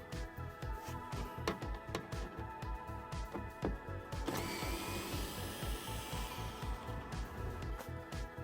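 A power tool backs T25 screws out of an Audi TT RS rear diffuser, a busy whirring drone with rapid rhythmic pulses and a higher whine rising midway, close and steady throughout.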